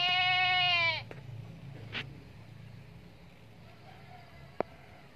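A Bligon goat kept as a prospective breeding doe lets out one loud, drawn-out bleat near the Solo area, followed by quieter background noise and a sharp tap near the end.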